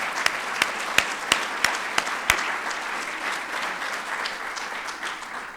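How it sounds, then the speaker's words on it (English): An audience at a medical lecture applauds an honored former hospital president, with several sharp individual claps standing out early before the crowd's clapping settles into a steady wash. "Let's give him a round of applause"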